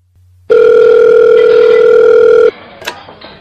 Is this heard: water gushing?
no